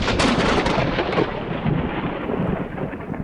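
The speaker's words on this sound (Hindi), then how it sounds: "बहुत तेज तूफान आया और बहुत तेज बारिश आई" Cartoon thunderstorm with heavy rain: a dense, loud roar of downpour with rumbling thunder throughout, steady and close with no voices.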